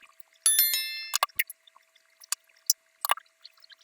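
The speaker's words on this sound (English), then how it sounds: "So I will simply reinsert the SIM." A SIM card and tray are pushed back into a Poco C75 smartphone. A ringing notification tone is followed by several sharp, close plastic clicks and taps in otherwise near silence.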